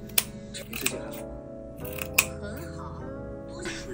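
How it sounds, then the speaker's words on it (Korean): Large scissors snip through woven yarn loops on a handmade weaving book cover, row by row, giving a few sharp close clicks around the start and middle, under soft background music with speech-like tones. "큰 가위로 한 줄씩 거침없이 잘라줍니다"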